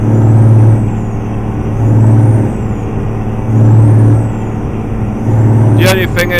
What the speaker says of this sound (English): with the flat top exhaust on, it does make your truck rather loud, as you can hear